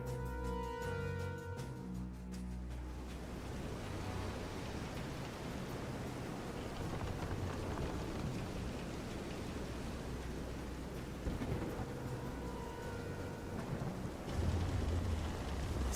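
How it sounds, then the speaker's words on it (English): Heavy rain and a rumbling thunderstorm at sea in the video game Visions of Mana, a dense, steady wash of rainfall with low rolling thunder throughout and no voices. "This is some storm."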